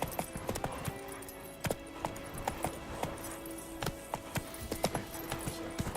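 Horse hooves clip-clop in Witcher 3 in a quick, uneven rhythm of sharp knocks over about six seconds, fairly quiet, under a low background hum.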